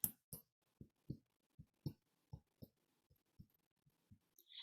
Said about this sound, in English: the heartbeat sound reminds us the time of being safe and secure in our mother's womb